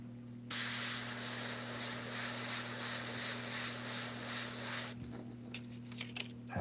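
An airbrush sprays Createx Illustration Colors paint over a stencil while painting a red Corvette Stingray, giving a steady, close hiss for about four seconds before cutting off, followed by faint rubbing sounds over a low electrical hum.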